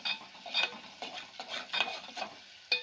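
Onions frying in a pan for a cluar bean and potato gravy, with a soft continuous sizzle broken by repeated scraping stirs of a utensil at a steady rhythm, close and quiet.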